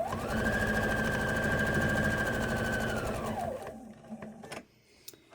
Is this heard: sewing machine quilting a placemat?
yes